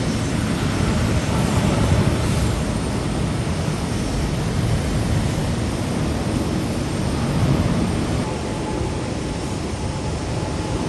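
Airliners taxiing and departing at Tokyo Haneda Airport give off a steady, even jet-engine rumble and roar at a distance, with mild surges in loudness and no voices.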